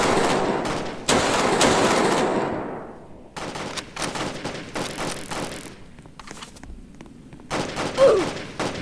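Rapid gunfire from Roblox Jailbreak, dense bursts of shots crackling loudly at the start, then scattered bangs and thuds further on.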